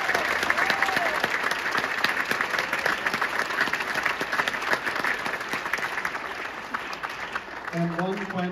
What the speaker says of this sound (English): Can we have one more round of applause for all the orchestras today?